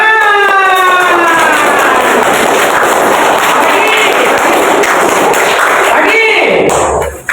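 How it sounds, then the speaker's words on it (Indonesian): Students in a class clap their hands in a sustained, crowded patter, with raised voices mixed in over the opening seconds. "Baik, tepuk tangan."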